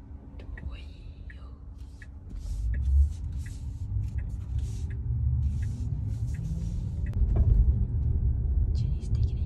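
A Tesla car making a U-turn, with low road rumble and tire noise building steadily over several seconds. Soft voices talk inside the cabin over the drive.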